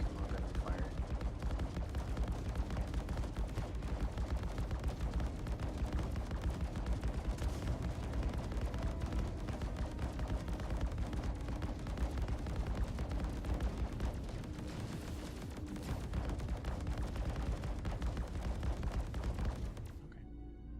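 Ship weapons fire on a Corsair during a Star Citizen space fight, a dense, steady barrage of shots and booms running almost nonstop for about twenty seconds, loud and close, with voices faintly mixed underneath.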